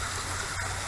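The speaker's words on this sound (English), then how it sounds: "What we have here is an iron ore rock kind of formation, and it's developed a waterfall." Small waterfall spilling over iron ore rock formations in East Texas, a steady close rushing and splashing of water throughout.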